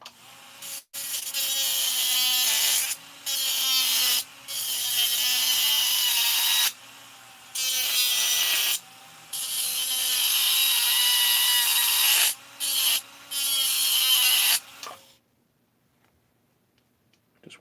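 A power tool grinds a bevel onto a chainsaw part for porting a 346XP. The high, buzzing whine runs in repeated bursts of a second or two, each separated by a short pause, then goes quiet at the end.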